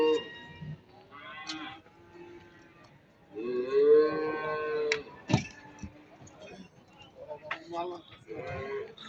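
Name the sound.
cattle lowing at livestock market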